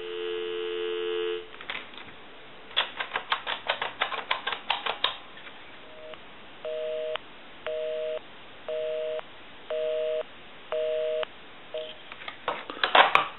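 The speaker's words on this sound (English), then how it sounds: "We'll call my number, and it'll be busy. Give you some dial tone." Telephone line tones during repair work on an Ericofon and Western Electric 2554 phones: a steady dial tone, a quick run of dialing clicks and tones, then a regular on-off busy signal repeating several times, clear and without talk.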